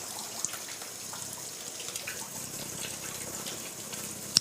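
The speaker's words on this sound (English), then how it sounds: "then I wash my hands with soap." Running tap water in a home kitchen while hands are washed with soap, a soft steady splash and trickle close by with small drips and knocks.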